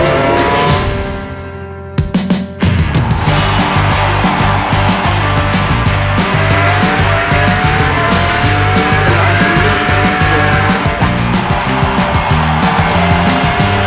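Racing cars in a motor race crash, with loud engine roar, tyre squeal and skidding running continuously over a dense crowd-like wash, a brief drop near the start before the din resumes at full level.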